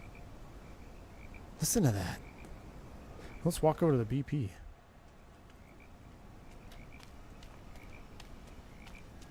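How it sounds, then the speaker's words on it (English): Frogs croak at Santos Dumont airport in Brazil in Microsoft Flight Simulator, in a few loud, rattling bursts against a quiet chirping background, while someone talks softly nearby. "You hear the frogs croaking?"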